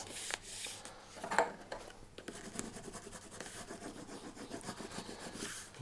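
A bookbinder rubs down the cover tightly around the back of a book's spine, producing a soft, continuous scraping and rubbing at close range with no talk.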